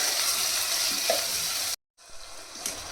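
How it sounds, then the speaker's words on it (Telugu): Prawns fry in a pan with a dense, bright sizzle that cuts out abruptly for a moment, then resumes slightly softer. "వేగుతున్నాయి"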